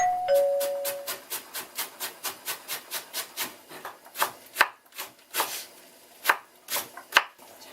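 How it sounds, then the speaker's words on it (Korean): A knife finely shreds cabbage on a cutting board in quick, even, rhythmic chops, about twenty close strikes that turn sparser and more irregular toward the end, with no talking. "일단 양배추 가늘게 채 썰을게요."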